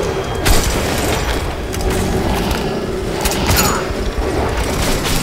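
Dense, continuous gunfire and booming blasts from Metro 2033, a loud sustained barrage of overlapping shots with sharp cracks standing out, close and unrelenting throughout.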